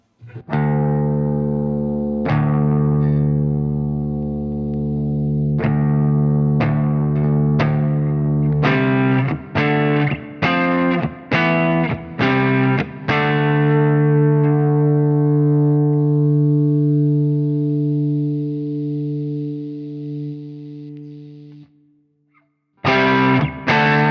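Electric guitar run through the compressor block of a Fractal Audio Axe FX III, played as a series of sharp repeated strums and chord hits that ring out into a long sustained chord, then stop, followed by a brief fresh strike.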